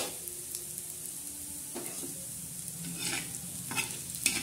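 Black masala roasting in a pan, with a spatula scraping and stirring in repeated strokes over a faint, steady sizzle, close and quiet with no voices.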